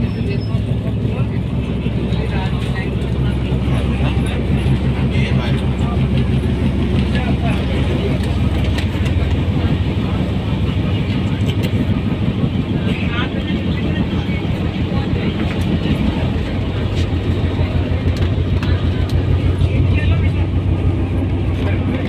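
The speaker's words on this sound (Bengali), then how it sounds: "এই হচ্ছে ট্রেনের ভেতরটা।" Interior of a moving passenger train on the Bhubaneswar to Puri route, with a loud continuous low rumble and rattling of the carriage throughout, while people talk over it.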